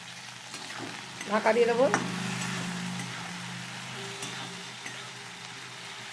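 Okra frying in a pan with a half spoon of salt gives a steady sizzle under stirring and scraping, with a louder burst of stirring early on. A voice speaks briefly over it.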